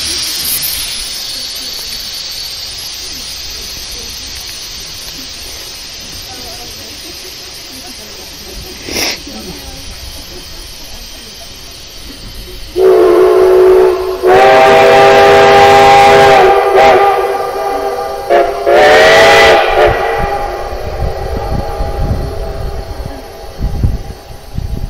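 Steam locomotives on the Cumbres and Toltec line hiss steadily, then let out two long, loud whistle blasts close by, with a brief sharp pop and faint voices earlier.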